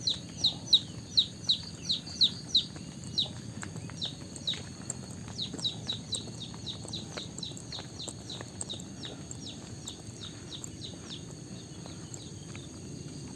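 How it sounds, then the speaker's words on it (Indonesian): Chickens in a rural village on a morning, heard as a run of repeated short chirping calls with soft clucking, moderately close against a quiet outdoor background and no talking. "Suara ayam yang ting sariak baraya ya di sini."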